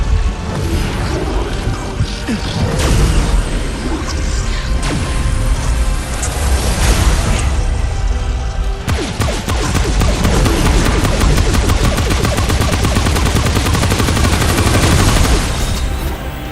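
Fusion rifle fire in the video game Remnant: From The Ashes, loud sustained bursts of rapid repeated shots and booming impacts that run nearly nonstop, with a denser stretch of crackling fire in the second half.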